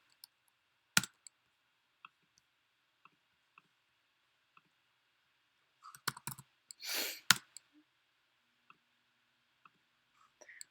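Sparse, faint clicks and taps of keyboard typing, scattered irregularly across quiet, with a brief cluster of louder key presses near the end.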